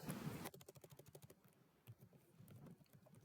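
Rapid, close keystrokes on a computer keyboard while entering a database name in a software setup dialog, a fast burst of clicks followed by a few scattered taps.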